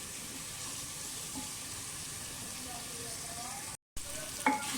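Potatoes with tomatoes, garlic, ginger and spices sizzle and fry in a clay pot, a steady soft crackle broken by a short silent gap, then brief louder stirring clinks near the end.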